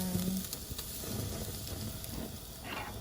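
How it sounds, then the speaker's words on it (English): A pot of chicken dumpling soup boils hard, giving a continuous bubbling hiss and sizzle, moderately quiet, with a faint clink near the start. "Let it boil a lot and a lot."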